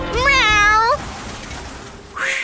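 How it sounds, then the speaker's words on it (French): A cat gives one loud, drawn-out meow up close, then quiet, then the start of a second cry. "Miaou!"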